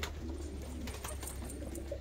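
Domestic breeding pigeons coo softly and repeatedly nearby over a steady low background hum, quiet and without talk.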